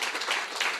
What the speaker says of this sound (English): a big round of applause to the panelists